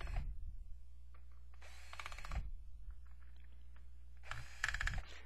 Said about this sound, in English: So, let's unscrew the plate.